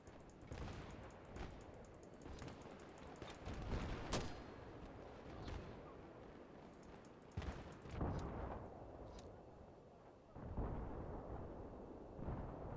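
Mortar explosions in the video game Battlefield 3: repeated heavy, booming blasts over a constant rumble of battle noise, some impacts louder and closer than others.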